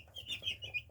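Baby Silkie bantam chicks chirp indoors in a quick series of four or five soft, high peeps, faint and close, with no talking.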